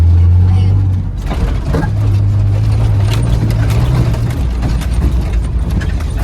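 Prerunner truck rolling and bumping over a rough entrance, a loud steady engine drone close by with rattles and jolts, while people talk over it.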